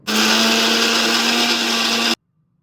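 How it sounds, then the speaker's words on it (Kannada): Loud, close whine of a mixer grinder grinding spice paste for a North Karnataka brinjal curry, running steadily for about two seconds and then cutting off abruptly to silence. "ನೆಕ್ಸ್ಟ್ ಗ್ರೈಂಡ್ ಮಾಡಬೇಕು ಚೆನ್ನಾಗಿ ಪೇಸ್ಟ್ ಆಗೋವರೆಗೂ"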